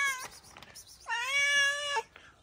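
A female cat lets out two loud meows, a short one near the start and a long, drawn-out wail after a brief pause, close and clear with no talking.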